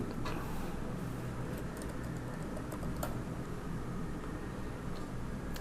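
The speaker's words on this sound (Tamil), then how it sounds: "அதே மாதிரி தமிழையும் டைப் பண்ணிடுங்க" Steady clatter of keystrokes on a computer keyboard while entering Tamil text into an address form for a ration card application, continuous and close under a constant low hum, with no talking.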